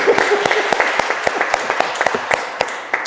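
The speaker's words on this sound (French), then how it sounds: "Non, mais on les applaudit" A church congregation at a Sunday mass claps for the readers, with a scattered, moderately dense patter of hand claps in a reverberant room that thins out toward the end.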